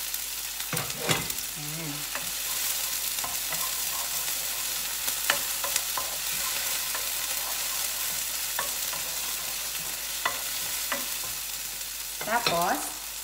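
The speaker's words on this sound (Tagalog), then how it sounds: "Tapos, i-mix natin yung chili." Chili being stirred into spring onions in a frying pan, with steady broadband sizzling throughout, scattered utensil scrapes and clinks, and a brief voice near the end.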